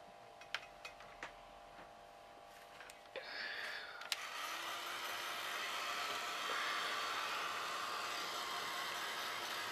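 A hair dryer blows steadily onto a Mod Podge and paint mix, switching on after a few faint taps and then running as a continuous, moderately loud whoosh until the end.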